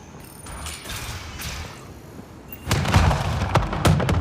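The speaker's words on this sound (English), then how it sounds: "Doors should be unlocked." Doors unlocking in the video game Mass Effect Andromeda produce mechanical creaks and clanks, then a louder grinding, ratcheting clatter with heavy thuds in the final second and a half, with no speech.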